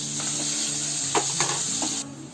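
Finely chopped onion and cumin seeds frying in hot oil, a steady close sizzle with a few soft stirring scrapes and clicks, fading slightly at the end; no talking.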